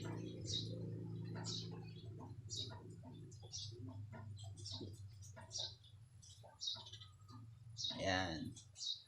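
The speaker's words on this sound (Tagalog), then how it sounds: "Napakabait na ibon." A pet bird in its cage gives a run of short, bright chirps over a low background hum, with a louder burst toward the end and soft tapping sounds in between.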